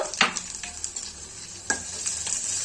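Crushed garlic cloves frying in a hot pan for thili saaru, a close, continuous sizzle broken by a few sharp spattering crackles and stirring scrapes.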